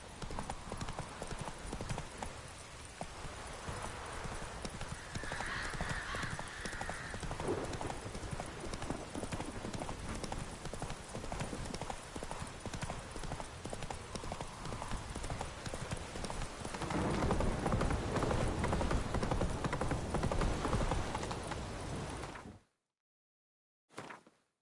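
Roach the horse in The Witcher 3 galloping, rapid rhythmic hoofbeats pounding steadily for about twenty seconds and swelling louder near the end before cutting out abruptly.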